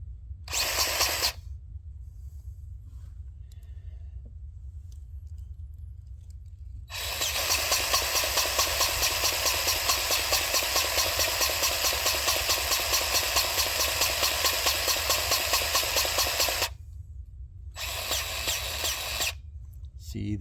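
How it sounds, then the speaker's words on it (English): A DeWalt cordless grease gun runs in steady motor bursts during trailer repairs: a short whine at the start, a long sustained run of about ten seconds, then a couple more brief pulses near the end, loud and close with no talk. "This is my DeWalt cordless grease gun."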